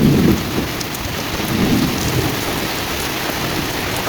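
Evening thunderstorm: steady rain pattering on surfaces with low rolling thunder rumbles, one near the start and another midway, no voices.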